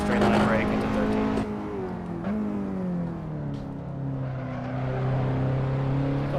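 On a track day, a race car's engine drones at length, its pitch sinking as the car brakes in a straight line and then rising again as it accelerates. A person talks over the engine throughout.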